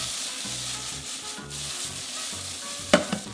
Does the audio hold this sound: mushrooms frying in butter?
yes